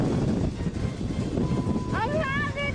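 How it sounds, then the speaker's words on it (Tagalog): Strong wind buffets the microphone outdoors, a loud steady roar with rumbling gusts throughout, and a voice rising over it toward the end. "Ang hangin, I swear!"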